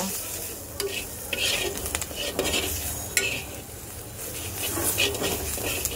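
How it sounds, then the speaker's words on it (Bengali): Onions frying with turmeric, ground coriander and cumin for potol dopiaza: a close, steady sizzle with constant spoon scraping and occasional metallic clinks against the pan. "এইবার পেঁয়াজের সাথে মশলাটাকে 2-1 মিনিট ভেজে নেব।"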